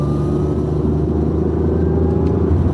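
A car's engine rumbles steadily and close as it builds speed onto a freeway, a continuous low drone with a faint rising whine and no voices over it.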